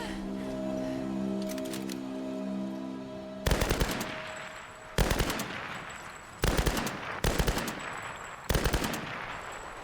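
Automatic gunfire in Tomb Raider Definitive Edition, loud bursts of rapid shots repeating at regular intervals with short pauses between, after a stretch of droning sound at the start.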